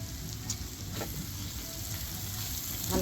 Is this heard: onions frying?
yes